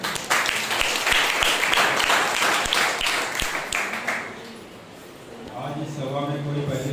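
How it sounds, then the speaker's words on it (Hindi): A church congregation at a Sunday service claps loudly and steadily for several seconds, the applause fading toward the end as a voice begins speaking over it. "आइए हम लोग जोरदार तालियों से परमेश्वर के लिए जोरदार तालियां बजाएंगे"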